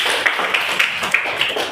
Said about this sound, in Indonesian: Ayo tunjuk tepuk tangan kita semua.